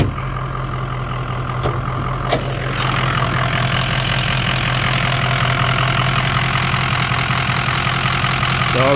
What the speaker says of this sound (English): Pop the hood so show you some of the motor.